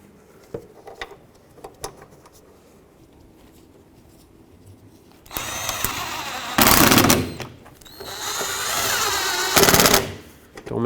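Bolts go into a 1997-2003 Ford F-150 wiper transmission under the hood, with two bursts of rapid, clattering ratchet-like clicks following several quiet seconds of faint taps.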